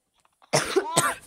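A person playing Brawl Stars lets out a short burst of close, loud coughs, two harsh hacks after a moment of near silence.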